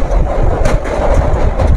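A Kasimbazar–Azimganj MEMU passenger train crosses the Nasipur bridge, heard from on board as a loud, continuous rumble with faint rhythmic rail clatter.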